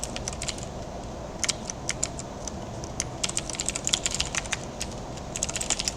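Code being typed on a computer keyboard, a continuous rapid clatter of close key clicks with irregular bursts and no talk.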